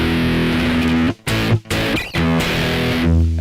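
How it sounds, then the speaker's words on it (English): An electric guitar played through a BOSS ME-80 multi-effects pedal on its turbo overdrive distortion setting rings out in thick, sustained distorted chords, loud and upfront, cut by two brief gaps between strums. "Turbo overdrive, just the distortion."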